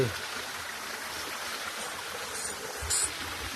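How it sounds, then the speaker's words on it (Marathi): Mountain spring water trickles and flows steadily along a ghat road on the Narmada parikrama route in Madhya Pradesh, a soft continuous wash with a faint brief voice near the end. "झरे डोंगरातलं पाणी येते"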